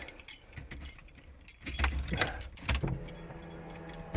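Car keys jangle and clink in a shop while a Honda's ignition is switched on, a close metallic rattle in bursts with a low hum of the car's electrics coming up toward the end.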